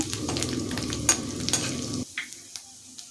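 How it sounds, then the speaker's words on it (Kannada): Garlic and ginger fry and sizzle in a pan for ragi soup, with stirring and a steady crackle that drops away abruptly after two seconds, leaving a few faint clinks. "ಬೆಳ್ಳುಳ್ಳಿ ಜೊತೆಗೇ ಶುಂಠಿಯನ್ನು ಸಹ ಸೇರಿಸಿ ಫ್ರೈ ಮಾಡ್ತಾ ಇದ್ದೀನಿ"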